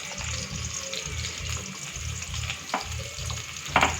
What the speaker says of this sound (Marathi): आता कांदा मी घातलेला आहे तेल गरम झाल्यानंतर